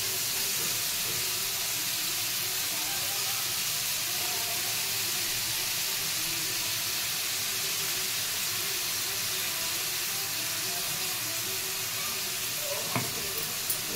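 Chopped onion and cumin seeds fry in a hot pan, a steady broadband sizzle and hiss running evenly throughout with no talking, a small clatter near the end.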